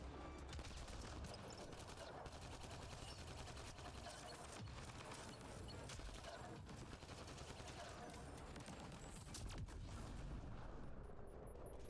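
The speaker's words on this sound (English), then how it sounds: "That seemed like a grenade. It was." Explosions and heavy combat noise in the video game Mass Effect: Andromeda, a grenade blast amid sustained loud gunfire and battle din running continuously throughout.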